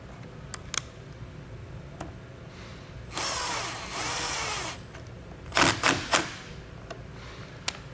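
A 13 millimeter nut is run back down onto a ring terminal on a 2019 Jeep Wrangler, with a few sharp ratchet clicks and two short bursts of tool whirring in the middle.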